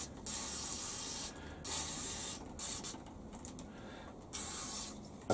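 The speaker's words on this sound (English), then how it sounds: "I'm going to spray it with some brake and clutch cleaner so it's not oil based, as a degreasing agent." Brake and clutch cleaner aerosol sprayed onto a shop-made quick change tool post part for a Warco lathe: several close, loud hissing bursts separated by short pauses, with no talking.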